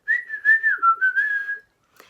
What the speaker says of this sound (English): Can you whistle? Yes, I can.